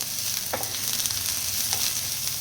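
Crushed ginger and garlic sizzling in hot oil in a pan for a Marathi-style gobi manchurian, a soft steady frying hiss with a couple of brief stirring scrapes, close and fairly quiet, no talking.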